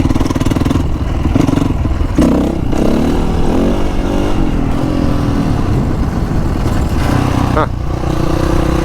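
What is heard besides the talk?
Honda CRF450R motorcycle riding in a lot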